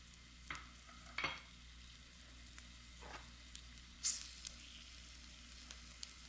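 A very thinly cut pork steak fries in a pan over lowered heat, producing a faint, soft sizzle punctuated by a few brief clatters and pops, quiet and without speech.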